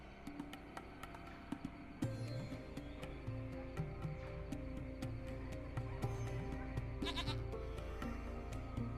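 A video-game goat bleats repeatedly in Lost Horizon, nasal calls one after another over a busy game soundscape with a short bright burst near the end, with no talking.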